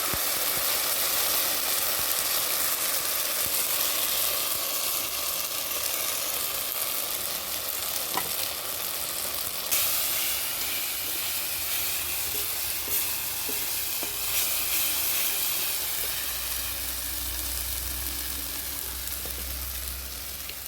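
Oil sizzling and spattering in a pan as ginger-green chili paste and turmeric go into a vegetarian cabbage dish, a steady, dense frying hiss held throughout at close range with a few clinks.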